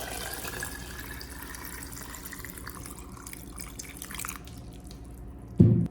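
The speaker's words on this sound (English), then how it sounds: "Pour this brine into the jar until all the lemons are fully submerged." Salt brine trickles steadily into a jar packed with lemons, a soft continuous pouring and dripping close by that thins toward the end before a brief louder knock of glass.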